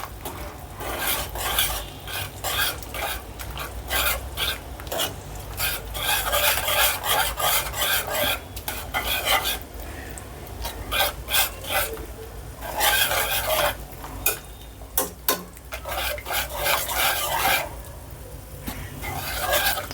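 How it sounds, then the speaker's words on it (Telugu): A spoon stirs a gram flour mixture into a pot of hotel-style poori curry, making continuous close scraping and swishing against the pot in rhythmic waves with a faint sizzle beneath. "సో ఇది పోసేసుకొని దీంతోనే కలిపెడదాము."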